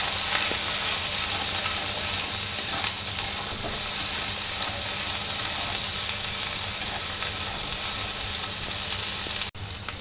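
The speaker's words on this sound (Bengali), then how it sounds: "মশলাটাকে ভালো করে কষিয়ে নেব।" Spices with salt and turmeric sauté in a pan for a fish-head dish, a loud, steady sizzle and hiss that runs throughout, cut briefly near the end.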